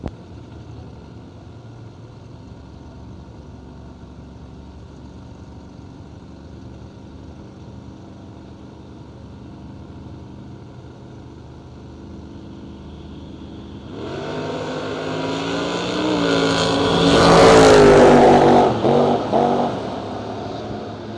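Footbrake drag race cars idle at the line under a low steady rumble, then burst into a loud, rising roar as they launch and build to a peak before the sound falls back.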